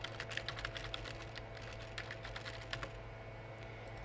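Steady typing on a computer keyboard, a quiet run of soft key clicks with a low hum underneath and no voices.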